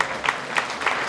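A short stretch of applause from an audience at a live stage show, moderate clapping with a few louder individual claps standing out.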